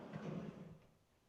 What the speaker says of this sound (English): Trash drawer here.